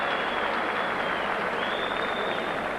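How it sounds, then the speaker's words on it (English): A boxing crowd applauds a title fight between Chris Sanigar and Rocky Kelly, a continuous wash of clapping from a large arena audience with a faint voice beneath. "And this crowd thoroughly appreciative of what they're seeing"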